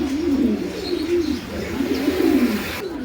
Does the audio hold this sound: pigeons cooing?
yes